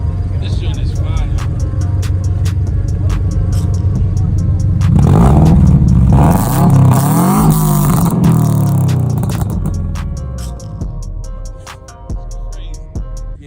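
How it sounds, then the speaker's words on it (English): A car engine idling at a rainy car show, then revving up hard in a rising, roaring sweep before settling back to idle, close and loud, with voices talking throughout. "Rev it up real quick, bro."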